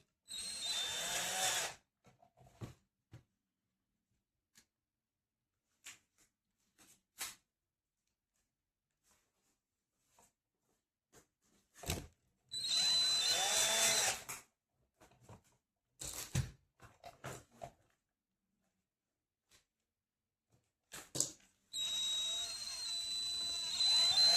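A power screwdriver drives screws into a plastic RC tractor during assembly, with several separate whirring bursts of a few seconds each and short clicks and handling knocks in the quiet gaps between them.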